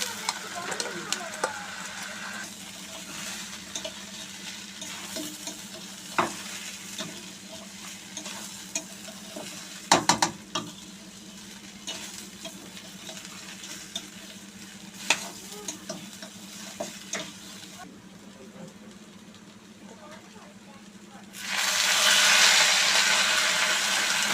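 Fish heads and spices are stirred and sautéed in a pan, a moderate sizzle with repeated scraping and knocking of a spoon, ending in a louder burst of hissing.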